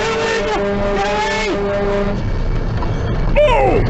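A truck's engine drones and shifts pitch as it drives, loud and close, with its tone rising and falling over a few seconds. A brief voice-like sound enters near the end.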